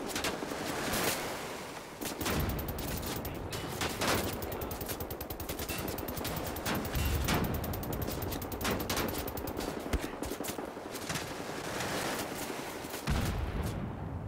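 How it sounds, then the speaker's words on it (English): Rockets and gunfire blast at the player in the video game Wolfenstein, a dense, loud barrage of sharp explosive bursts and rattling shots that continues through the whole stretch without pause. "I think they're shooting rockets at me now."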